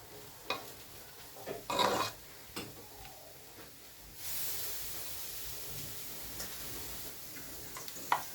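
A spoon stirs potato and cheese filling in a bowl, a few soft scraping knocks near the start and middle, then a steady faint hiss fills the rest.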